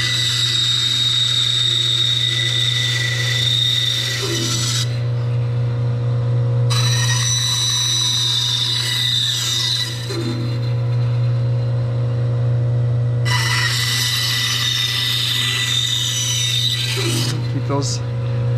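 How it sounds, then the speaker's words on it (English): A bandsaw cutting wood in a woodshop during the making of a step stool, a steady motor hum running throughout with three bright, sustained cutting passes, each lasting several seconds and separated by quieter gaps. "let's keep cutting here. Just be careful, all that reaching around, that bandsaw blade's still spinning."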